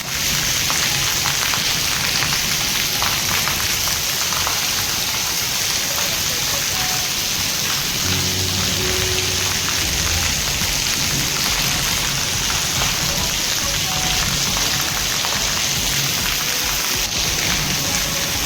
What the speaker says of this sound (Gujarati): મેહુલિયો વરસી રહ્યો છે।